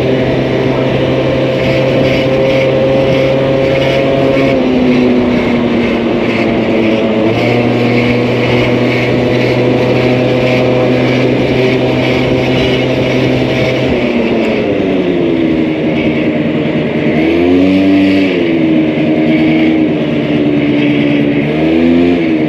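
A Suzuki Katana EY50 50cc scooter ridden at full throttle, its small engine droning loud and steady with a high whine that shifts pitch as it rises and falls, heard close throughout.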